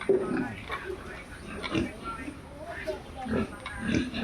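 Pigs at a farm grunt and oink in short repeated bursts, nearby, while someone talks over them.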